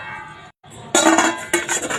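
A sponge cake made from biscuits is turned out onto a dish, giving a short run of close clinks and knocks of metal and crockery that starts after a brief pause and comes in two bursts.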